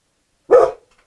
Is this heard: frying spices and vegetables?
no